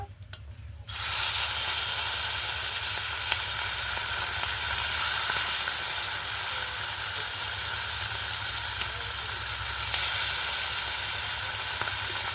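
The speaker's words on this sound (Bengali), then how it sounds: "তেল ভালো করে গরম হয়ে গেছে, মাছগুলো দিয়ে দেব।" Bata fish fry in hot oil in a rural Bengali kitchen, a sudden loud sizzle that bursts in after a second of quiet and holds steady as a dense continuous hiss with small pops.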